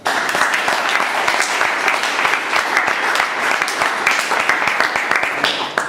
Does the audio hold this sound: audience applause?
yes